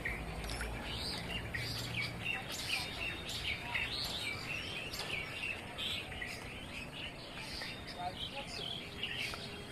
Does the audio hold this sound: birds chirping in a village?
yes